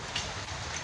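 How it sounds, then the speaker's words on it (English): Hail and heavy rain in a Brisbane summer storm in Toowong, Queensland, a dense continuous hiss of pattering impacts with faint ticks, steady and enveloping for under a second. "You can hear the hail."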